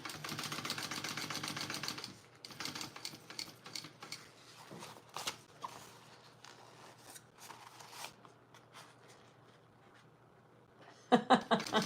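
A sewing machine stitches a Tracy Wristlet held with 1/8 inch double-sided tape. A dense mechanical rattle runs for about two seconds, then comes in shorter clattering bursts and clicks, and a louder run starts near the end.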